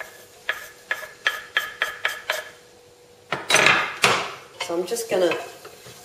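Garlic cloves stirred in a pan for a rosemary, pumpkin and chickpea winter soup: a run of short, evenly spaced scrapes and clinks, then a louder, rougher burst of stirring and sizzle, with a brief spoken phrase near the start.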